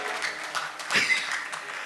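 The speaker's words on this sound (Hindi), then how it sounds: "तालियां बजाओ एक बार साउंड वाले भैया के नाम पे" An audience at a devotional music program at the Swadeshi Mela in Surajgarh claps for the sound operator: a short, dense burst of applause that swells briefly near the middle and sits steadily over the crowd's background noise.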